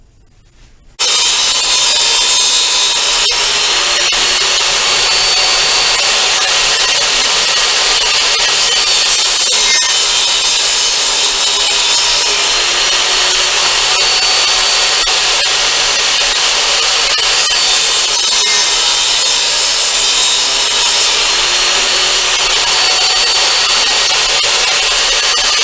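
A power saw rips a 2 by 4 foot sheet of 1/4 inch MDF into strips, a loud, steady grinding whine that starts abruptly and runs without a break.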